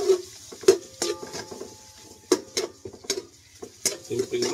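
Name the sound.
white onions cooking in a pan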